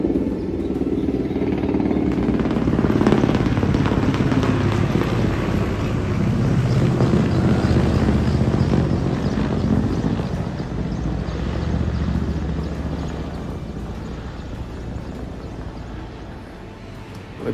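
An aircraft passing close overhead near Chennai airport, a broad, steady low roar swelling and fading over about seventeen seconds with wind rumble and no talk.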